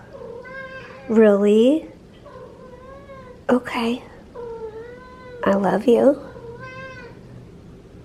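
A cat meows several times, with drawn-out, wavering cries in three bursts, close by and mixed with a woman's soft, affectionate talk.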